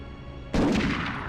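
A single sharp gunshot in the Medal of Honor video game, a sudden loud crack with a short decaying tail after brief quiet.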